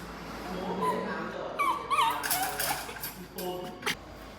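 A little dog whimpers and yips close by, giving high, wavering whines and short cries that come in bursts with brief gaps.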